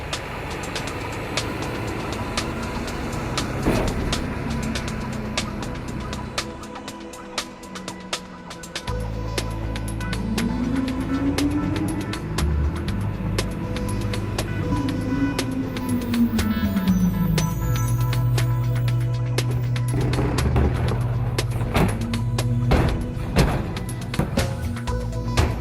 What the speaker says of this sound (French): Les citoyens placent les matières pêle-mêle dans le bac qui est vidé à l'aide d'un bras mécanique.